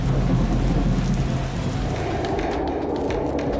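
Steady, loud rain pours down in Ziro, Arunachal Pradesh, a dense continuous hiss with low rumbling beneath it, heavy enough to ground an MI-17 helicopter.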